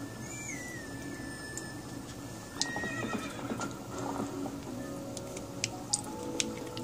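Epona the horse in Twilight Princess neighs loudly, then gallops with a rapid clip-clop of hooves over an ambient background, without speech.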